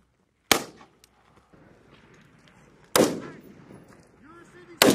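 Automatic gunfire during a Marine combat training exercise, with two sharp loud bursts a few seconds apart and a third starting at the end, separated by quieter background noise and faint scattered sounds.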